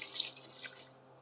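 Water poured into a pot of soaked rice for a potato and pea pulao, a faint steady splashing trickle that thins out and fades toward the end, with no voices.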